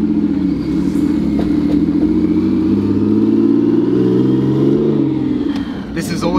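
A car engine with an aggressive clutch accelerates, a loud close steady drone that rises slightly in pitch and then eases off, with people talking inside the cabin.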